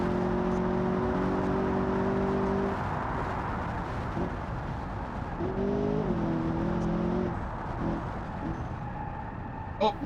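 Simulated car engine in BeamNG.drive coasting through a turn, a humming engine drone with tonal whine that dips and rises again, steady and close throughout.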